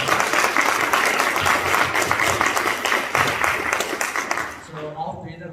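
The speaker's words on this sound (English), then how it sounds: "give them a round of applause." Close, loud audience applause for three student musicians at an elementary school winter concert, dense clapping with crowd voices mixed in, tapering off at the end.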